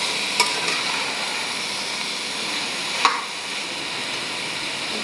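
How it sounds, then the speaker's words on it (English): Vegetables sautéing in a pan for veg biryani, a steady soft sizzle with occasional sharp scrapes of the stirring spoon, close and alone without talk. "You have to saute this for 1 or 2 minutes."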